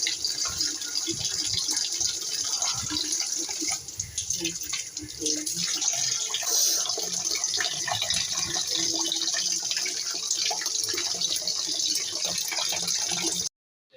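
Tap water gushes steadily and unbroken while small fish are washed, close and fairly loud, with voices talking now and then over the flow before it cuts off abruptly.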